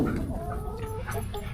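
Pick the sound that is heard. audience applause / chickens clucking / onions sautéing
chickens clucking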